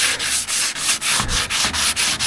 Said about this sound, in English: I did touch it with sandpaper for a second, so I'm going to do a bit more touch up on it there now, just to smooth out